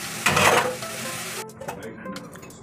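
Bathua (goosefoot) sabzi sizzling in a hot pan while being stirred, a loud burst of frying hiss with scraping, then settling to a softer crackle.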